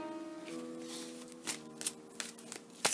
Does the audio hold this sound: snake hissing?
no